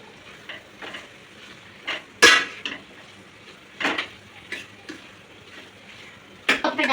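A spoon stirs curry in a pot after turmeric and chili powder go in, giving scattered clinks and scrapes of metal against the pot, with a few louder knocks between quieter stirring sounds.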